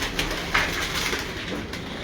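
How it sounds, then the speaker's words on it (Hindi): A baby pigeon on a rooftop gives soft, brief coos against low background noise. "उस फीमेल का बेबी पिजन है ये"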